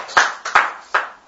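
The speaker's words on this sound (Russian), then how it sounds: "Похлопаем?" A few sharp, separate hand claps ring out in a church gathering after a pastor's sermon on apologetics. Three crisp strikes land roughly half a second apart, close and fairly loud, with no talking.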